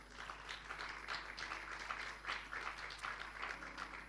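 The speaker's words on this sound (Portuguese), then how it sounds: "Você pode aplaudir bem forte ao Senhor." Church congregation applauding during a sermon, a fairly quiet, uneven patter of clapping in pulsing waves over a low steady hum, with no one speaking.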